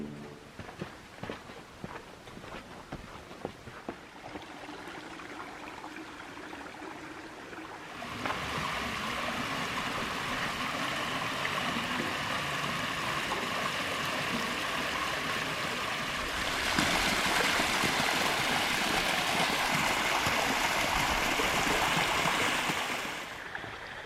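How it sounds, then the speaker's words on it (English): A little creek runs along the bottom of a canyon on the Water Canyon Trail, and its continuous rushing water is audible throughout. Footsteps sound near the start, and the flow grows louder and fuller partway through. "There's a little creek down there, stream."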